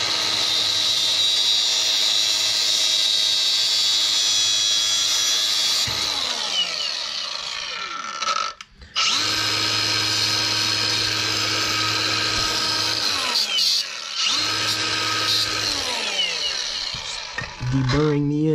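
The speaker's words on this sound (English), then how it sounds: "deburring the end there so this will slide on easier" A loud, steady power-tool whine while deburring the cut end of an emergency brake cable, with pitch sweeping down and back up as the tool bogs and recovers, briefly stopping twice.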